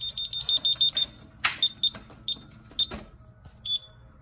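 An ADT alarm panel signalling a dead battery gives a run of rapid, sharp high beeps, then slower scattered single chirps with short gaps between them, close and clear.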